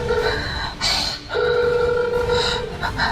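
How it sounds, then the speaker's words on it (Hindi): Telephone rings unanswered in repeated bursts with short gaps between, moderately loud over a noisy room, faint voices in the background. "शारदा जी वो फोन नहीं उठा रहा है।"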